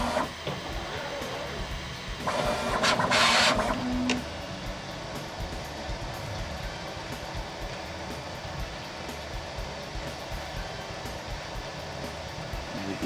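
A Bambu Lab P1S 3D printer cleans its nozzle after finishing a print, giving a brief scraping, whirring burst of about two seconds before settling back into a quiet background hum.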